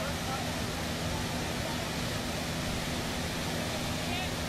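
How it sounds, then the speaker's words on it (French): Rushing rivers and waterfalls inside a huge natural cave excavation in Turkey give a steady, dense roar of falling water that fills the whole clip without a break. "nous nous retrouvons entourés de rivières et de cascades"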